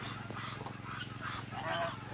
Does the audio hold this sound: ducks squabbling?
yes